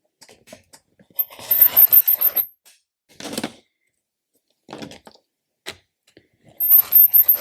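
A blade slices book cover board in several separate bursts of scraping and cutting strokes, with quiet pauses between them and a few light taps, close and moderately loud.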